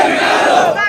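A large protest crowd shouting together in a loud, dense roar of massed voices, one brief sustained chant burst that cuts off sharply at the end.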